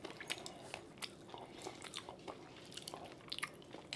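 Close, quiet crunching bites into Dubai pistachio chocolate with a crisp candy-like filling, a series of sharp crackles and chewing over a few seconds with no talking.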